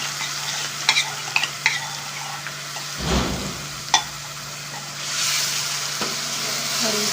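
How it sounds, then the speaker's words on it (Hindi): Ginger-garlic and tomato paste stirred in a hot pan for chicken rice, a steady frying sizzle with a few sharp spoon clicks and a louder scraping stir midway, no talking. "इसके अंदर अदरक लहसुन डाल देंगे और इसको मिक्स करेंगे। अब इसके अंदर टमाटर डाल देंगे।"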